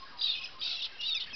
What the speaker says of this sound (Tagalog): Ayun, dami sa taas yung loro.